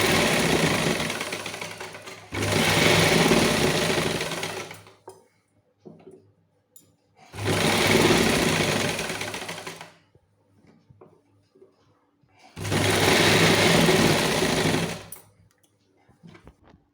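A sewing machine runs long basting stitches on a single layer of fabric in three separate bursts of steady whirring, each lasting about two to three seconds, with quiet handling sounds and soft clicks in the pauses.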